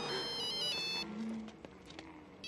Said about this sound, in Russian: Внезапно Эду звонят по телефону